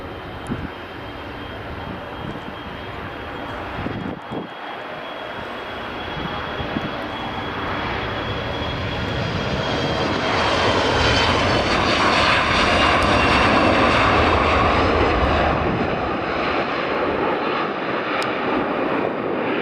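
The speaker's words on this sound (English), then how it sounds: "And here comes the CRJ." A Bombardier CRJ jet arrives at Aberdeen Dyce Airport, its engine roar swelling from a distant rumble to a loud, broad whoosh as it passes close, then easing off slightly, with no talking over it.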